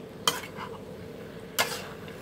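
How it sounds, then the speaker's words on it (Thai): Chicken offal is being stir-fried with holy basil in a pan. A quiet sizzle runs underneath two sharp metallic scrapes of a utensil against the pan, about a second apart. "นี่นะคะก็ผัดให้กะเพราเขาสลดนิดนึงนะคะจะได้หอมๆเนาะ"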